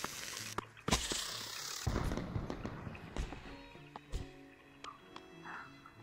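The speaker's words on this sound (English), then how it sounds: "We're just gonna launch fireworks." Fireworks in the VR game Ghost Giant launch and burst in a scattered series of sharp pops and thumps, with crackling and whistling tails in between.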